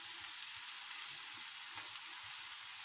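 Tomatoes fry with red chilli powder in a pan, giving a steady, close, even hiss of sizzling oil with soft low bumps beneath.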